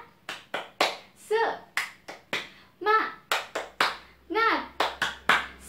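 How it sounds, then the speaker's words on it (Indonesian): Schoolchildren in a fourth-grade class perform a rhythmic clapping chant, sharp hand claps alternating with short shouted syllables in a quick, steady pattern, loud and close throughout. "Kita tepuk semangat bersama-sama, masih ingat kan? Coba tepuk semangat."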